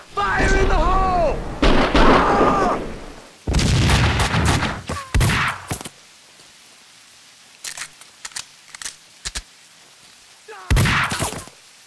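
In Max Payne 2, a grenade explosion and gunfire come in heavy booming bursts up close, first layered with shouting voices, then followed by scattered sharp shots and a final loud blast after a quiet stretch.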